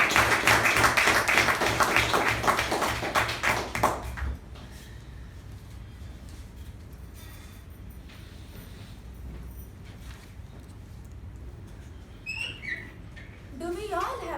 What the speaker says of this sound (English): please help me welcome Toastmaster Saipriya with a thunderous round of applause